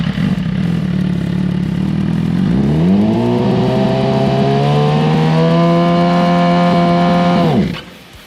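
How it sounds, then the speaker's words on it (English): A built motorcycle idles, then its engine climbs into a loud, sustained rev as the clutch is dumped at low RPM, holding a steady strained drone for several seconds before cutting off abruptly. "Let's do that same thing now while dumping the clutch at too low of an RPM."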